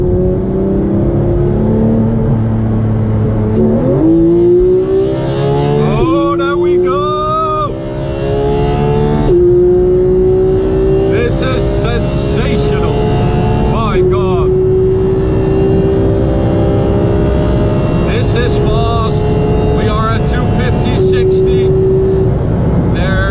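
A 2017 Porsche 911 GT3 accelerates in sport mode with its exhaust open, a loud, close engine wail climbing through rising pitches with gear-change breaks, while people talk over it.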